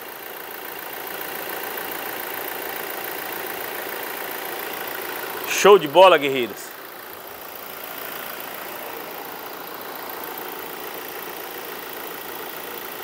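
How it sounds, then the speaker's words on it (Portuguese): The diesel engine of a 2017 Toyota Hilux pickup, newly replaced, idles steadily and evenly throughout, with a voice briefly speaking over it midway. "O motor tá funcionando redondinho."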